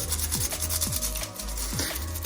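A toothbrush scrubs a watch lathered with washing-up liquid, producing quick repeated rubbing strokes with a wet, gritty texture, close and steady, no voices.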